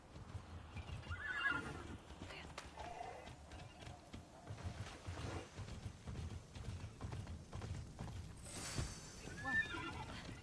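Horses neigh and whinny several times in Immortals Fenyx Rising, with clip-clop hooves and a steady game ambience beneath; the whinnies stand out at moderate volume near the start and again toward the end.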